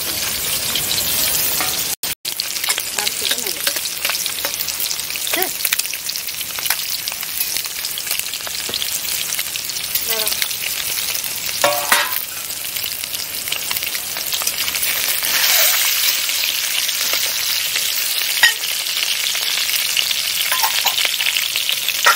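Eggs frying in a pan for a village-style egg dish, a steady close sizzle with scattered pops and occasional stirring scrapes running throughout, no voices.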